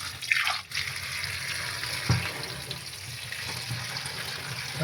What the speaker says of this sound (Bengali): শাকটা ভালো করে ধুয়ে যেতে হবে